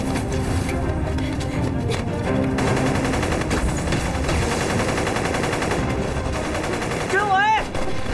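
Gunfire in a war film battle rattles almost continuously under a dense, loud mix of effects and score, ending in a brief whistling sweep.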